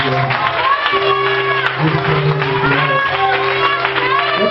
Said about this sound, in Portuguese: Agora aplauda ele, que ele é de Deus.